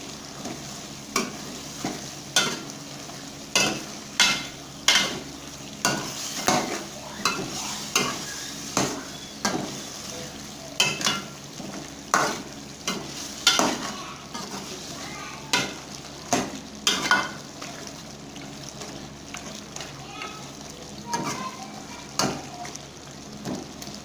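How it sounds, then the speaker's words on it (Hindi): Beef karahi being stirred and fried in a pan: a steady sizzle under a regular run of sharp scraping strokes from the spoon, close and fairly loud, with no talking. "मिक्स करेंगे।"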